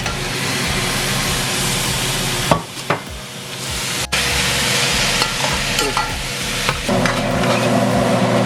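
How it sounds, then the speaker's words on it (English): Cabbage frying in a pan as tomatoes go in: a steady, close sizzle with scraping and stirring clatter, brief louder knocks where the tomatoes are added, and the hiss continuing throughout with no talk. "So I'm going to put the tomatoes in."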